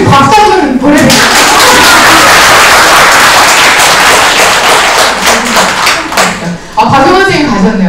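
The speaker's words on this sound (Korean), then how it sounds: "그냥 이유 없이 박수 좀 보내드릴게요." A room of people attending a functional medicine Q&A session claps in a loud, dense burst, with a speaker's voice heard before and after.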